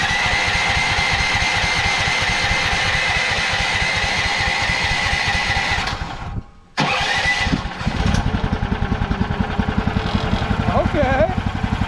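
A Chinese mini excavator's small engine, just choked, chugs in a loud, rapid rhythmic putter, cuts out briefly in the middle, then catches again and keeps running roughly.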